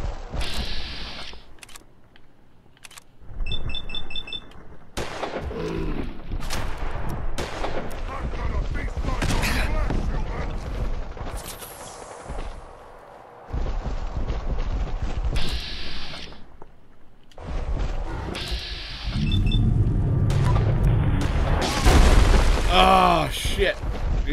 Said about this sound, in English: Somebody just fired a fucking rocket in here.